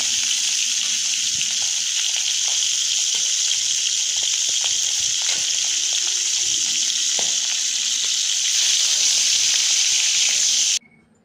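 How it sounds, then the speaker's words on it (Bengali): Pomfret fish frying in hot oil in a wok gives a steady, loud, close hiss and sizzle that runs unbroken until it cuts off abruptly near the end. "কড়াতে তেল চাপিয়ে তেল গরম হয়ে গেলে সেখানে একটা একটা করে মাছগুলোকে দেবো ভাজার জন্য।"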